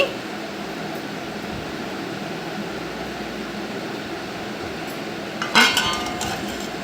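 A lid clanks down onto a pot of simmering prawn curry, one short metallic clatter near the end after steady kitchen background hiss.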